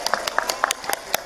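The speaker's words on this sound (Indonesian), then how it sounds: "Tepuk tangan dulu buat santrinya" Scattered applause from an audience for Islamic boarding school students, a dozen or so sharp, uneven claps over about a second, fairly close and moderately loud, with no one speaking.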